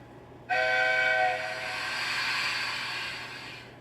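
A steam engine hauling a train of heavy coal cars gives a loud, sharp whistle blast lasting under a second. A steady rolling rumble of the train follows and fades slightly near the end.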